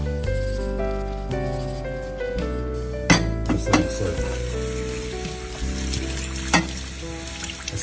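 An aluminium pan is scoured with eggshell and sugar, giving a steady gritty scrubbing with occasional sharper clinks over a sustained humming background.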